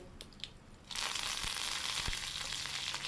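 Asafoetida, dried red chillies and curry leaves hit hot oil with a sudden, loud, steady sizzle and crackle after a few quiet clicks.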